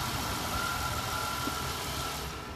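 A 1995 Oldsmobile engine idles smoothly and steadily at close range, a continuous even hum with a faint high whine and no talking.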